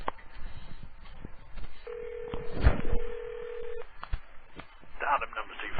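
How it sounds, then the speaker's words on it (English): A touch-tone telephone number is dialed: short beeps, then one long steady tone lasting about two seconds, with people talking over the line. "I need to hire someone to dial these numbers"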